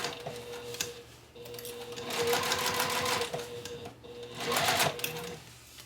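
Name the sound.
sewing machine stitching around a bag perimeter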